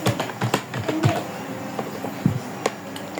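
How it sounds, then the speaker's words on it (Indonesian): Ping command being typed on a computer keyboard: a string of sharp, close key clicks in an uneven rhythm, with a few louder taps, and no voices. "Kita ketik ping"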